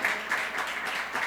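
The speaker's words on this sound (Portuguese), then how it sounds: "Aplauda o Senhor Jesus bem forte" A church congregation claps and applauds together during a worship service; a steady wash of hands clapping fills the clip at moderate loudness with no talk over it.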